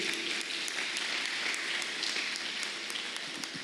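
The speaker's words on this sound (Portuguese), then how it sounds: "Aplauda o Senhor, querido." Church congregation applauding together during a worship service, a steady wash of clapping from many hands that stays even and fairly loud throughout, with no voices standing out.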